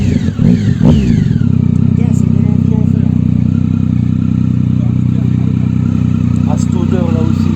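A big motorcycle engine revs up briefly, then settles into a loud, steady throbbing run close by, with voices talking over it.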